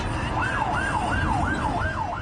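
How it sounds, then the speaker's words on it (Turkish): An ambulance siren wails close and loud behind a minibus on the road, a steady rising-and-falling tone repeating about every half second over traffic rumble. "Sol şeritte seyir halinde olan midibüse siren çalındı."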